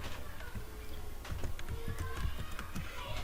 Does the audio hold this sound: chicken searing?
no